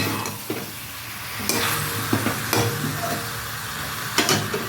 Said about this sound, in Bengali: এই বাঁধাকপিটা দিয়ে ভালো করে আমি কষিয়ে নেব আলু আর বাঁধাকপিটা